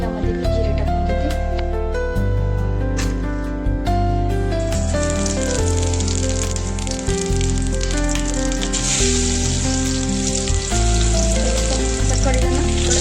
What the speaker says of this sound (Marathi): तिकडे तेल पण तापलेलं आहे, यामध्ये मी जिरे टाकून घेते।